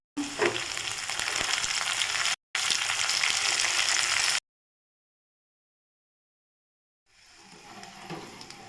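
Curry leaves crackle and sizzle loudly in hot oil for tempering a chow chow kootu, a steady bright frying hiss broken by a brief gap, then falling silent before quieter sizzling resumes.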